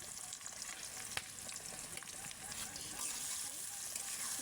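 Chopped onion, garlic and green chilli fry in hot oil with a continuous soft sizzle and faint crackling, close but fairly quiet, with one sharp click of stirring.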